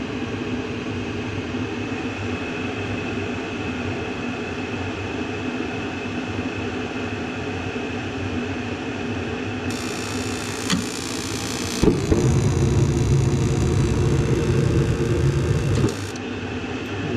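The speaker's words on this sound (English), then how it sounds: "It's gonna call for heat. The gas is on. It's gonna go ahead, cycle through and start up." A Mr Heater compact furnace cycling on, a steady mechanical hum and rumble that swells into a louder, fuller roar as the burner and blower start up partway through, then continuing steadily.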